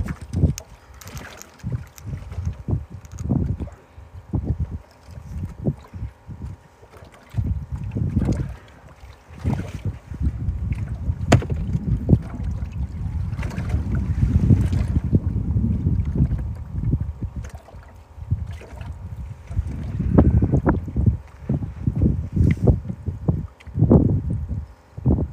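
Gusty wind outdoors on a fishing boat, rough low rumbling bursts buffeting the microphone, swelling and dropping irregularly, loud and close throughout.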